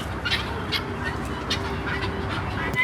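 Farm chickens and ducks squawking and quacking together in a restless racket, repeated calls overlapping at mid distance over a steady background hum, with no speech.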